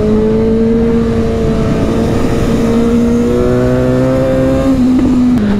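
Suzuki GSX-S750 motorcycle engine droning steadily at high revs through fast corners, a loud, continuous near tone with slight pitch shifts as the throttle holds and eases off.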